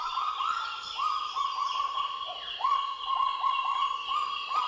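A recorded kagu call, played in the New Caledonian forest to provoke a territorial bird, sounds as a rapid series of repeated rising, yelping whistled notes, fairly loud and close, over a faint background of other birds and insects.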